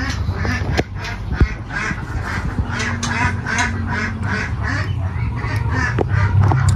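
Muscovy ducks on a breeding farm quack in a steady, busy chorus of close, overlapping calls. The sound is loud and continuous, with a noisy background.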